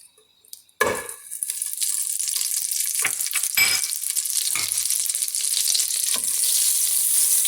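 Butter melting and sizzling in a hot pan for fresh coconut barfi, a bright continuous fry hiss that starts abruptly after a faint clatter and holds steady, with a few soft utensil taps.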